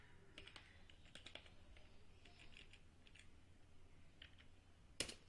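Faint, quick typing on a computer keyboard, with soft, irregular key clicks throughout and one sharper click near the end.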